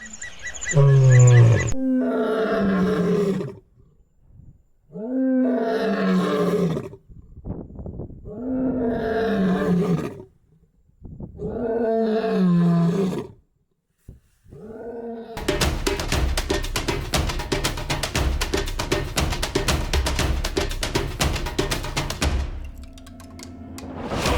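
A lion roars several times in deep, loud, drawn-out bursts separated by pauses, followed by a long steady stretch of dense noise toward the end.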